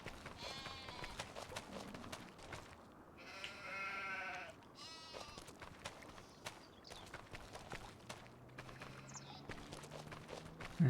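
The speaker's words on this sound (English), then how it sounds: "I need to get rid of them sheep" Sheep bleat several times across a farm scene in Farming Simulator 25, with hoof-like clip-clop footsteps and other game sounds, with a higher cry near the middle, then more bleats and a rising tone toward the end.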